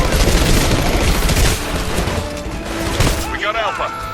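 Heavy sci-fi battlefield gunfire from Titanfall, with dense bursts of automatic fire and booms filling the scene, loud and continuous, while a radio-style voice speaks over it near the end.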